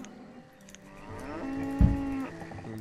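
Cows moo in the farming city-builder game Banished, a long drawn-out low bellow that swells and holds for a couple of seconds, loud and close, with no talk over it.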